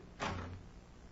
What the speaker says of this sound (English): shut the doors behind us